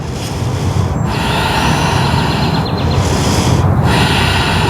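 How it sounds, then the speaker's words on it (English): Loud, rough breathing during a power yoga session: steady forceful airflow close to the ear, with several brief pauses between breaths and no talking. "Two more breaths."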